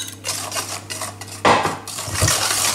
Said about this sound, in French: je mélange tout ça énergiquement